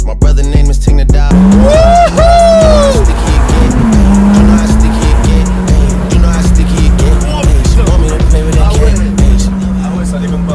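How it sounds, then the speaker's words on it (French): A Ferrari drifting through a corner at speed, its engine droning loudly and steadily with a rising and falling whine, plus tire squeal and faint voices throughout. "En virage, en drift, c'est ça? 200 km/h en drift."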